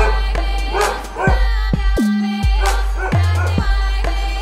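A big dog barks a few times in close, loud bursts with short gaps between them, and there is no talk over it.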